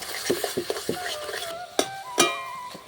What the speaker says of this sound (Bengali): এরপর নাড়িয়ে নিচ্ছি ভালো করে।